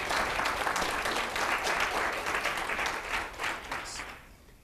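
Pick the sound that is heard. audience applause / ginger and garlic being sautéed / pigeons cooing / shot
audience applause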